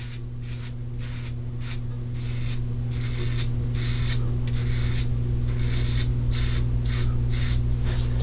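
A Razorine shavette razor scrapes up the neck against the grain in a run of short, rasping strokes, close and fairly loud over a steady low hum, with no talking.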